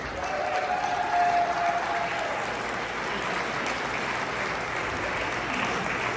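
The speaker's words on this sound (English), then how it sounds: "One more round of applause for the greatest team on earth." A crowd applauds the team at a company launch event for Valar Atomics, a sustained, uniform wash of clapping that carries on evenly from start to finish.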